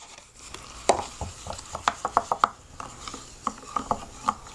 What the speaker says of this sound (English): And then I'm going to give it a good stir.